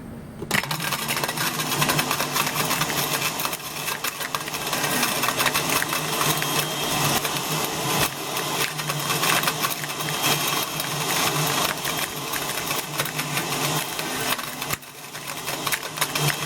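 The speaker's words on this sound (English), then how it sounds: "will this Oster blender hold up against a remote control helicopter?" An Oster blender grinds up a remote control helicopter, giving a dense, harsh, unbroken roar of whirring and clattering plastic that runs loud and steady for the full stretch.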